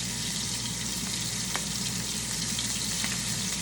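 Cauliflower rice fries in a pan with a steady, loud, close sizzle and a few soft stirring clicks, with no voices present.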